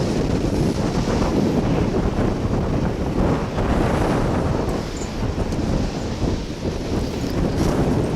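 Strong gusts of about 26.5 mph buffet an outdoor microphone at a plane-spotting spot beside DFW Airport, producing a loud, continuous low roar that surges and dips slightly without pause.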